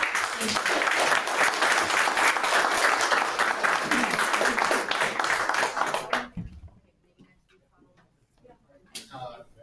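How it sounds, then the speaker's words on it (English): A meeting audience at a police district council session breaks into dense, loud applause for about six seconds, then the clapping cuts off abruptly into near quiet with a brief stray sound near the end. "I'd like everybody to give a round of applause."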